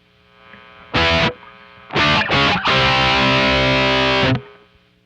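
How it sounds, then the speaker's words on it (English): Heavily distorted thrash tone from an electric guitar through a Strymon Riverside overdrive pedal, one short chord stab, two quick hits, then a long sustained chord, with a noisy hiss and hum between notes. "Let's go ahead and dial up a more thrash tone."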